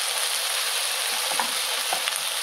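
Potatoes fry in a pan with a steady, close hiss, and light knocks and scrapes mark the pan being tossed partway through. Nobody speaks.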